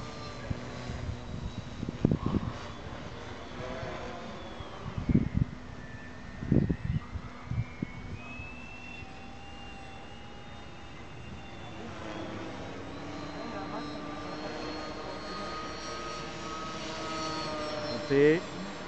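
A radio-controlled Durafly Monocoupe model airplane flies overhead, its thin electric motor whine rising and falling as it passes, while people talk loudly nearby in the first half.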